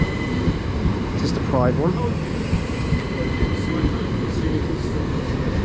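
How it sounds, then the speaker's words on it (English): A Southeastern service toward London Charing Cross draws into a station platform in East Sussex, a steady low rumble of wheels and engine running throughout, with a brief squeal of brakes partway and a person talking nearby. "arriving here is the 1812 Southeastern service to London Charing Cross"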